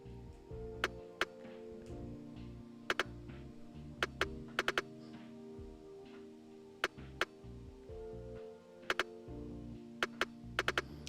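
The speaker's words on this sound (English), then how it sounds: "So now we have the rim shot" Sharp rim shot clicks crack at irregular intervals over a quiet, low musical bed, sometimes in quick pairs.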